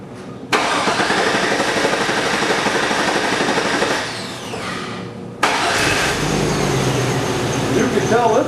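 A car engine on a Buick or GMC Terrain diagnostic check cranks and catches, then runs, restarts with a second crank and settles into a steady idle, loud and close throughout.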